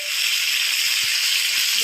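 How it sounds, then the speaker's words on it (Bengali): Fish pieces fry in hot oil in a pan, giving a steady close sizzle and hiss throughout with faint clinks beneath. "ভাজা চলছে"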